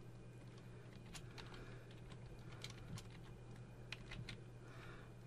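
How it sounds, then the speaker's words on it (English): Typing on a computer keyboard to enter a button label in HTML code, a quiet run of soft irregular key taps over a steady low electrical hum, with no talking. "I'm going to type out what I want the button to say"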